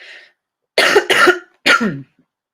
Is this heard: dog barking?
no